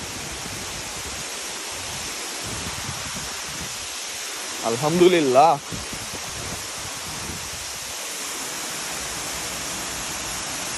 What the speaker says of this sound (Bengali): ঝর্ণাটা খুবই সুন্দর